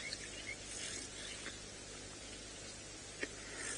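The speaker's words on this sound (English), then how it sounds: "That's all of the grasshoppers talking to each other." Grasshoppers stridulating in grass during an evening safari drive at sunset, a faint, continuous high-pitched buzzing drone that fills the background, with no talking.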